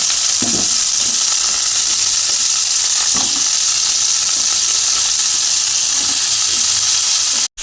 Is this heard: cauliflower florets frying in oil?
yes